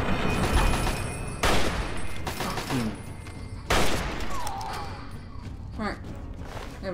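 Gunfire in Fallout 3: bursts of rapid shots and heavy booms scattered through the scene, loud and close, mixed with game sounds and a voice talking.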